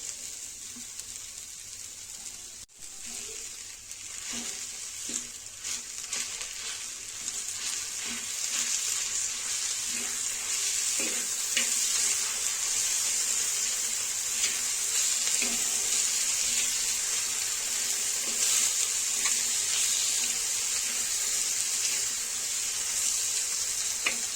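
Onion frying in butter on a tawa, a steady soft sizzle that holds throughout with faint scattered crackles and occasional light stirring.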